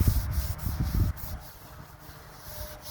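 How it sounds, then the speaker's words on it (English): Cloth wiping excess finish off a wooden charcuterie board, a few quick close rubbing strokes followed by quieter faint rubbing. "So I'm just going to wipe off the excess and everything"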